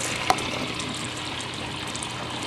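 Water drains from a bathroom sink in a continuous, close gurgling wash, with a single brief click near the start.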